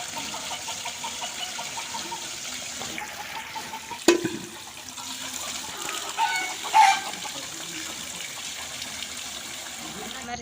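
Water is filled from a village supply line on a farm visit, a steady rushing flow that runs throughout, with a sharp knock partway through and faint fowl clucking nearby.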